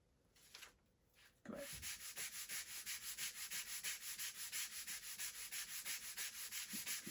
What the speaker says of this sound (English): we'll turn around and sand that side a little more